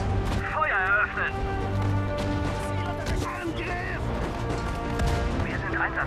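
Gunfire, cannon blasts and crashing impacts from the World War II strategy game Sudden Strike 4 boom repeatedly beneath a droning musical and ambient bed, with shouted German voice commands mixed in.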